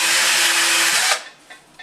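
A power drill with a 2 mm bit bores a hole during wardrobe assembly, a loud, close, high whine that runs steadily for about a second, then cuts off abruptly, leaving a few faint clicks.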